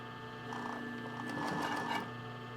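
Sewing machine stitching along connected lace appliques, a steady close mechanical whir and rapid needle rattle, running continuously without talk.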